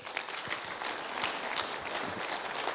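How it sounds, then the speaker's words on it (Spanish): Audience applause at a conference lecture, a dense steady clatter of many hands clapping together, sustained at an even level throughout with no speech over it. "Bien, un aplauso para Javier."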